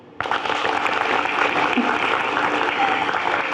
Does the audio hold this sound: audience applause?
yes